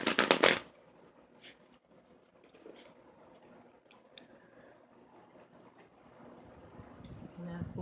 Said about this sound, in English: First, she is shuffling the cards.